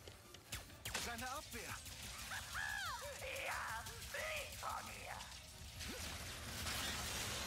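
Metallic wrench melee strikes and whooshes in the video game Ratchet & Clank: Rift Apart, layered with clanking game effects and chirpy creature sounds at a steady moderate level.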